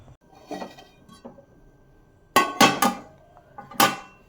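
Metal cake pan set into a preheated cooker pan and covered with a plate, giving a few soft knocks followed by a cluster of sharp metallic clatters and clinks close by, with no talking.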